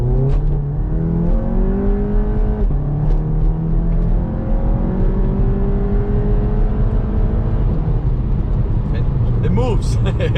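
A VW GTI MK7 accelerates hard through the gears, its engine note climbing and dropping at each shift, heard close from inside the car with a voice speaking over part of it.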